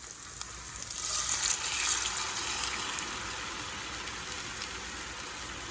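Green salsa poured into a hot pan of caramelized pork for chile verde sets off a loud, steady hissing sizzle that swells at first and then settles into a softer, continuous frying crackle.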